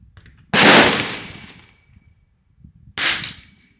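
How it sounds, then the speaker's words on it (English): Two sharp rifle shots from a Ruger 10/22 .22 rifle fired outdoors at a target, each a loud crack with a brief decaying tail, about two and a half seconds apart. "let's go ahead and shoot a group here"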